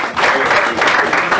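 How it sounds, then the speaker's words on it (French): A music association's assembly audience breaks into brief, hearty applause, many hands clapping loudly and steadily throughout. "Est-ce qu'on n'applaudit pas pour ça?"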